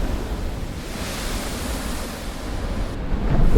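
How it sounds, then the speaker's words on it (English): Ocean waves crashing against the curved coastline of Madeira, a steady broad roar of surf with wind noise, building slightly louder toward the end. "The unique curvature of the coastline causes waves to crash dramatically"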